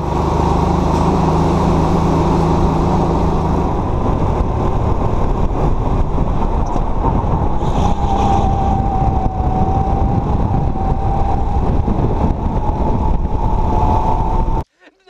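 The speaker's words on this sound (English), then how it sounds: "race number one with Maestro Milioto back there" Go-kart engines droning loudly and continuously during a race, a steady close buzz with a rising whine partway through before cutting off abruptly at the end.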